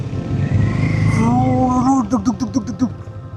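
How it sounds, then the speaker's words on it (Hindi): A Harley-Davidson motorcycle engine rumbles loud and close, with a deep low drone at first and then rhythmic throbbing pulses, while a voice sounds over it. "एक टाइम ऐसा आता है जब ना आपकी बाइक की आवाज़ आपकी दिल की धड़कन से मैच हो जाती है।"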